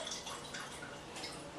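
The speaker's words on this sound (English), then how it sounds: "grab this cup, fill it up with some water, which will take just a few seconds" Tap water running into a cup, a soft steady splashing and dripping stream heard close and fairly quiet, with no talking.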